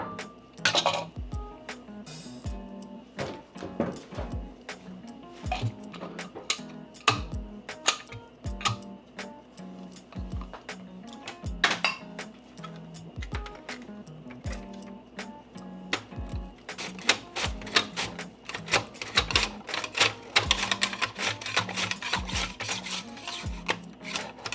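An onion being chopped on a board as part of a breakfast routine, with a steady run of sharp knife taps through the whole stretch, some clinking of kitchenware mixed in, and no talk.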